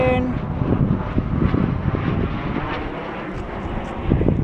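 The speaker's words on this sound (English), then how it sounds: "You see plane, Adam?" On a snowy day, an airplane passes overhead as a steady, broad engine roar mixed with wind noise on the microphone, with a voice speaking briefly over it.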